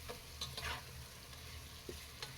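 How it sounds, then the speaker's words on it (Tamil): Tomatoes and onions for Dindigul-style seeraga samba biryani are sautéed in a pan, a faint steady sizzle broken by occasional soft scrapes of the spatula. "நல்லா இப்படி வதக்கிக்கலாம்."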